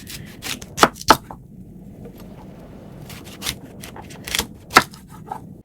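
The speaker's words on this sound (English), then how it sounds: "we're going to slice up our broccoli" A knife cuts a large round head of broccoli on a cutting board, with a few sharp, separate chops and softer scraping between them, close by and without speech.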